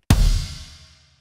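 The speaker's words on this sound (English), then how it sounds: "So the kick drum sounds like this," A single deep kick drum hit from a Roland TD-27KV electronic drum kit, loud and punchy, with a long booming tail that slowly fades out.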